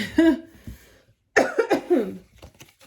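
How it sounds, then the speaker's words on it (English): A person coughs several times in short, harsh bursts, one cough followed after a pause by a rapid cluster, close to the microphone. "Please don't mind if I have a coughing fit."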